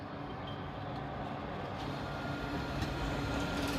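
A tram pulls away from Highbury Vale, a low, steady rumble of motor and wheels that slowly builds in level, heard faintly from a distance with no talk.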